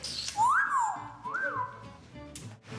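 A bird whistles two clear, sliding notes, rising and falling, close by over soft background noise.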